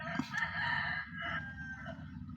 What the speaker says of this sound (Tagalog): Yung manok nga yung maglayo.